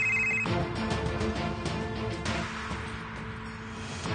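A telephone rings steadily and loudly in a tense Turkish TV drama scene, the repeating electronic ring running continuously over a low music bed, with no talking.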